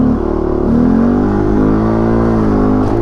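A motorcycle revs high in first gear on a stunt practice lot for foot-brake drills, a loud, steady, close engine whine that holds its pitch, with no talking.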